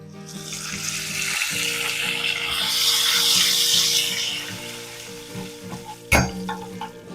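Curry leaves drop into hot oil with popped mustard seeds and asafoetida on a low flame, giving a crackling sizzle that swells and fades, with a sharp metallic clank near the end.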